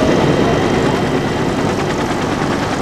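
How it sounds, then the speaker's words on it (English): Helicopters evacuating Vietnam War refugees to an airbase make a loud, continuous engine roar with a faint rhythmic rotor throb, filling the whole stretch. "a wave of helicopters is used to evacuate people to the airbase at Thu Y Hoa."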